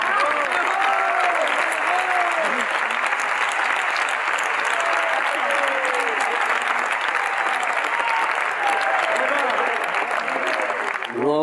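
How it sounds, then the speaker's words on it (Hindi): Sustained applause from a large audience at a Hindi-language Guru Purnima gathering, dense and steady for the whole stretch, with voices faintly heard through the clapping. "अच्छी चीज के लिए तालियां तो बजाओ"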